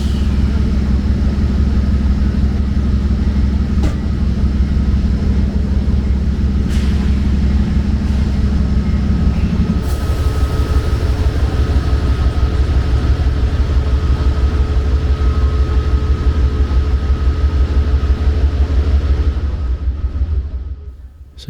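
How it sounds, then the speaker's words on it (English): Amtrak locomotive number 118 heading the Lake Shore Limited runs at idle, a loud, steady low diesel rumble with a constant hum that shifts slightly in tone partway through and then fades at the end. "this is the engine that will actually lead us all the way to Chicago"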